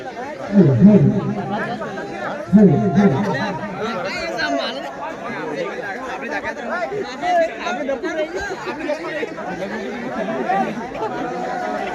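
A huge crowd gathered around a wedding stage, dense continuous chatter of many voices close by, with a few louder individual voices rising above the murmur.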